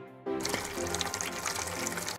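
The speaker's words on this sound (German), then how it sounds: "Gebe etwas Wasser in die Schüssel." Water is poured into a bowl in a Hello Kitty hospital video game. A steady splashing fill starts abruptly and runs for about two seconds before cutting off.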